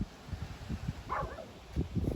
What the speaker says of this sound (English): dog's barking over there.